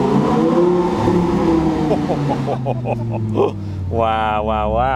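A 2012 Audi R8 GT Spyder, roof down, accelerates through an underpass with a loud, climbing engine roar and rising revs. A man exclaims repeatedly over it, and a sharp rev flare rings out near the end.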